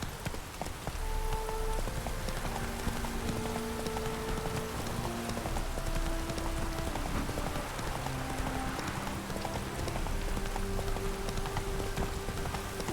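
Roach, a horse in the video game The Witcher 3, clip-clops along at a steady walking rhythm under a constant wash of rain, with sustained musical tones drifting over the hoofbeats.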